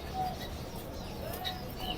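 Pigeons coo softly at a pigeon market, faint low burbling calls with a few chirps against a busy outdoor background.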